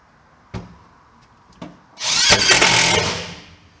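A power tool blade cuts through screws in the rear floor pan of an XT Falcon car, a couple of sharp taps followed by a loud, harsh grinding cut lasting under two seconds, close up with no talking.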